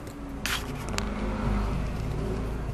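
An Audi A4 rolls slowly out of a shop, a low steady engine hum with a brief scrape or hiss near the start, close and without talk.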